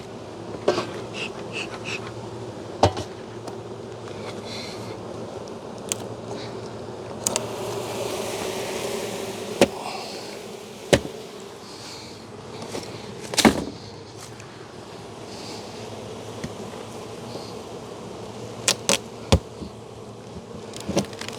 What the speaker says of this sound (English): You can tell these are all harvester bees because they all just flew off.